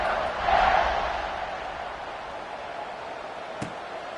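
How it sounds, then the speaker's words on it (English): A stadium crowd at a Clemson–Baylor college football game buzzes and roars after a score, a broad distant swell that peaks early and then settles to a steady murmur. "this crowd is buzzing after that last score"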